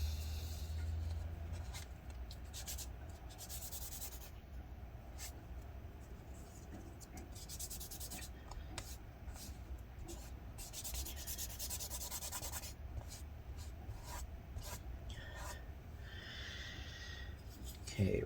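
Adhesive residue is scrubbed inside an early 2015 13-inch MacBook Pro A1502, a quiet, continuous rubbing and scraping with quick strokes, close and faint.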